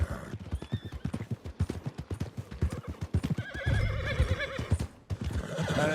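Horse in a Red Dead Redemption 2 game scene: steady clip-clop of hooves plods along, then a loud neigh and whinny rises near the end, close and clear.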